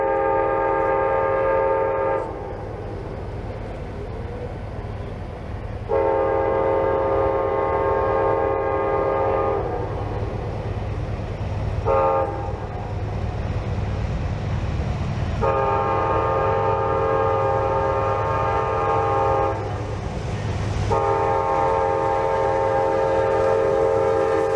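An Amtrak Auto Train rolls fast through Folkston, its loud multi-tone horn sounding in several long blasts over the continuous rumble of passing railcars.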